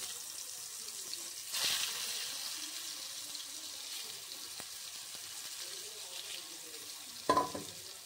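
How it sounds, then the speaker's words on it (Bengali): Eggplant slices going one by one into hot white oil in a kadai, a quiet continuous frying sizzle with a couple of sharper bursts as pieces drop in. "বেগুন ভাজিগুলো একে একে দিয়ে দিচ্ছি।"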